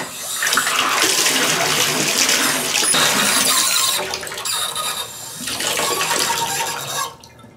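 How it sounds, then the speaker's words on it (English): Water gushes steadily from a repaired single-handle bathtub faucet, a loud, close hissing rush that dips briefly midway and then cuts off near the end. "let's turn the water on, see how it works out"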